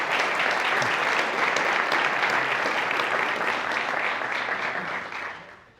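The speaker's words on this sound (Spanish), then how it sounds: "Así que, por favor, un aplauso para Antonio." Audience at a Kubernetes and AI tech panel applauding, a dense sustained burst of clapping from many hands that fills the room and fades out at the end.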